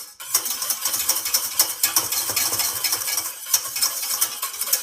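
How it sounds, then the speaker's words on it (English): Hollandaise sauce mix being whisked off the heat, a steady close metallic scraping and clinking of whisk against the pan with quick rhythmic strokes, alone with no voices. "continue to blend your mix"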